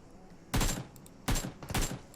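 Gunfire in the video game PUBG Mobile: three sharp, loud bursts of shots, the last two close together, against a quiet background.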